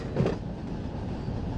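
A Union Pacific freight train rolls out of the Bakersfield yard on the Arvin Branch in Run 8 Train Simulator, a low, steady rumble of rail cars with faint wheel noise.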